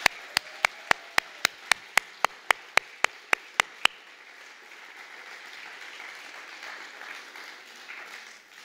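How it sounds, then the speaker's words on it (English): Applause from a crowd at a school graduation and award ceremony sounds faintly and at a distance, first overlaid by a dozen sharp, evenly spaced clicks for about four seconds, then continuing softly alone. "If we could just have a round of applause for both of them,"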